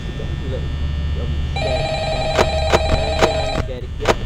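Telephone ringing in the Five Nights at Freddy's video game, a repeated electronic bell ring pulsing in rapid bursts over a steady hum, with a person talking underneath.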